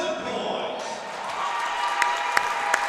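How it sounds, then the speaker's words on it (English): Fans at a Kentucky high school girls' basketball game between Lewis County and Russell applaud a player's 2,000th career point, steady crowd clapping and cheering filling the gym with a few sharp peaks, under the hum of the arena. "the Russell and Lewis County fan base applauds Steele on her accomplishment"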